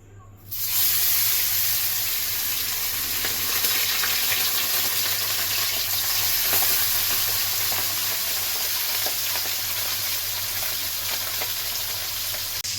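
Fish sizzles in hot mustard oil in a wok, a loud, continuous hiss of frying. It begins abruptly and holds steady with faint crackles throughout.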